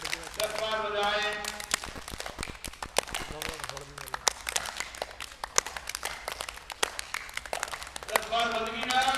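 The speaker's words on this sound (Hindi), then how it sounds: "अपने हाथों को ऐसे करें और सामने ताली बजाएंगे।" A group at an International Yoga Day session claps hands rapidly and repeatedly, a dense stream of sharp slaps running under a voice and background music throughout.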